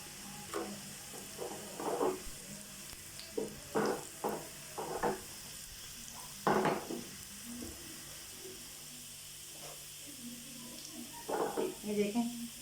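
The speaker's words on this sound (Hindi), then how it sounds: "लाइट ब्राउन होते हैं तो हम इसमें अपनी मिर्चें डाल देंगे" Chilies fry in hot oil for a lentil tempering, a soft crackling sizzle with bursts of spattering and stirring at close range.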